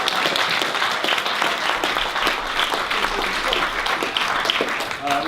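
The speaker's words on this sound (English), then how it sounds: "have a round of applause maybe" Wedding guests break into sustained applause for the bridesmaids at a reception, a dense, steady wash of many hands clapping with some chatter mixed in and a few sharper claps near the end.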